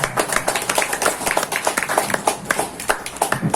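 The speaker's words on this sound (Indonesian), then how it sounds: "Tepuk tangan untuk kita semua, kawan." Audience clapping at a community launch event for IKI Banten, a steady, dense patter of many hands lasting throughout, fairly close and loud, with little voice.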